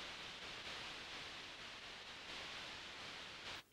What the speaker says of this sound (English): a little bit of white noise, and I've filtered out some of the very, very high frequencies to emulate like a bad sample feel